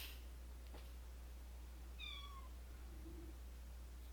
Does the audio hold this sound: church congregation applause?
no